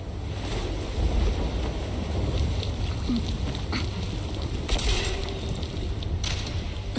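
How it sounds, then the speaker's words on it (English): Gusting wind in the Zenless Zone Zero video game sweeps steadily through the scene, a broad whooshing rush with a few brighter swells near the end, heard alone without voices. "The wind. It's shifting."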